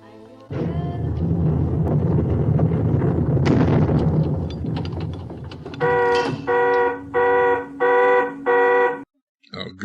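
Alarm heard in the 1961 war film The Guns of Navarone, loud harsh rumbling and blasting giving way to a series of five evenly spaced, sustained buzzing alarm blasts with short gaps between them.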